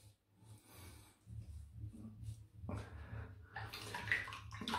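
A straight razor rinsed under running water, starting as a quiet trickle and swelling into a louder splashing gush as the blade passes through the stream, heard close and without talk.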